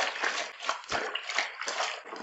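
A white towel is rubbed and sloshed by hand in a basin of water, giving a steady run of wet squelching and splashing strokes up close, with no talk.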